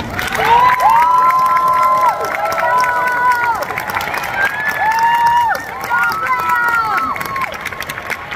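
Families in the audience cheer and applaud for Ms. Lewis's class at Anne Mason Elementary's kindergarten graduation ceremony, a loud, sustained crowd roar with high children's shouts and whoops rising above it.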